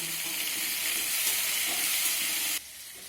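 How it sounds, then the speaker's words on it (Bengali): Pumpkin and potato pieces dusted with turmeric sizzle steadily in a frying pan while being stirred, a dense continuous frying hiss that cuts off abruptly near the end. "আমি এখান থেকে সামান্য হলুদ গুঁড়ো কুমড়ো আলুতে দিয়ে নেড়ে চেড়ে নেব"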